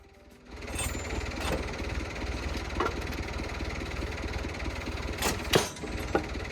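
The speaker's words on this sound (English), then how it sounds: "I'm milling these slabs to 3 inches thick." A chainsaw mill cuts a log into 3-inch-thick slabs, a steady close engine drone running throughout with a few brief sharper bursts near the end.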